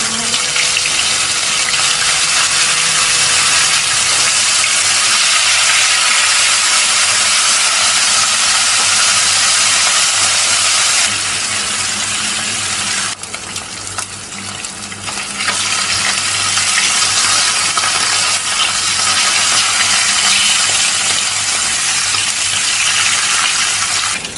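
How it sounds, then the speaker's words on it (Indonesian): Salted fish fries in hot oil in a wok with a loud, steady sizzling hiss that dips briefly partway through, then roars back up, close by and without any talking. "Kalau sudah panas, kita akan goreng ikan asinnya terlebih dahulu ya."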